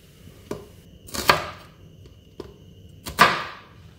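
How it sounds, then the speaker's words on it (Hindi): A knife cuts through onions into small pieces on a board, two pairs of firm chops with a crisp crunching slice after each, close and clear with quiet gaps between. "अब इनको हम छोटे पीसेस में काट लेंगे"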